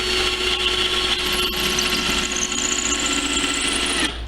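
Power drill driving into a wooden owl nest box, a steady loud whirring motor that runs continuously for several seconds, rising slightly in pitch near the end before cutting off.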